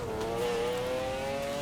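A McLaren F1 supercar's engine in the racing game Forza Horizon 4 holds a steady, high, droning note, loud and close with a slight pitch rise, alone without voices.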